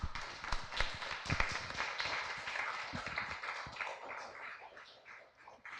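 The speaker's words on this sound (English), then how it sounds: "Let's give Mr. Schwartz another round of applause." Applause at a school morning assembly, a steady patter of many hands clapping throughout that slowly tapers toward the end.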